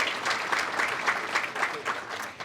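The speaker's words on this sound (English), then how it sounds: "Please, a round of applause for our emerald sponsors." Audience clapping at a chamber of commerce annual meeting, a steady round of applause from a seated crowd lasting a couple of seconds.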